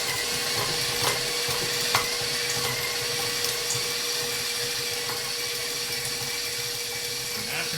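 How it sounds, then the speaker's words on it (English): KitchenAid Pro stand mixer creaming butter at speed 6, a steady close motor whine with a constant tone and churning rattle, holding evenly throughout with a few faint knocks. "this is a KitchenAid Pro mixer"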